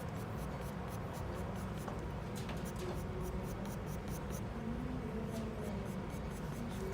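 A thin pencil shading strands of hair on paper gives a soft, continuous scratching with quick repeated strokes, faint and steady throughout.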